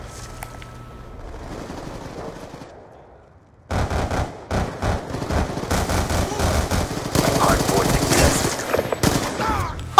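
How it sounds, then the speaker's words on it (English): Shotgun fire in Call of Duty Black Ops 2 comes after a quiet stretch of faint ambience. Loud, sharp shots crack in quick succession, rising into an intense, near barrage. "Oh, shotgun, you kidding me?"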